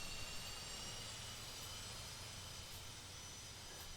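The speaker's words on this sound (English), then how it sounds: "I hear a plane." A jet airliner's engine roars as a steady, even, faint drone in the Airport CEO game, holding without change throughout.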